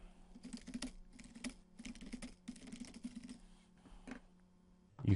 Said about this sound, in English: and then just type on my keyboard.